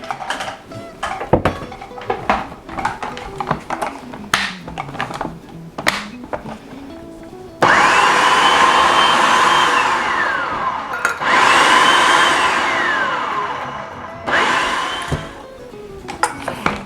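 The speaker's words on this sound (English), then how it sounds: "And then we're going to blend, blend," A blender purees watermelon with lemon juice for lemonade, first rattling and clattering in short bursts, then roaring in loud sustained runs with rising and falling motor pitch, pausing briefly between pulses.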